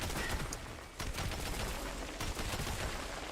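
Turret fire in Metro: Last Light, a steady run of rapid automatic shots hammering on without pause, fairly loud and close, with a brief lull before the firing resumes.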